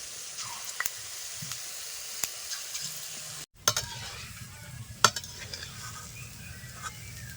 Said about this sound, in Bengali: দেখো কত সুন্দর বড়গুলো ভেজে নিচ্ছি